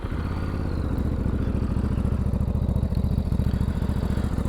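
A 2023 Ducati DesertX engine with a Termignoni exhaust idles with a rapid, even thumping pulse, steady and close, with a deep throaty burble and no voices.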